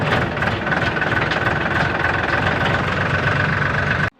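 A motorcycle engine idles steadily and loudly at close range, a continuous low throbbing rumble with no talk, cutting off abruptly near the end.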